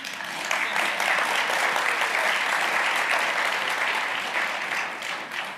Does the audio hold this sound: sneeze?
no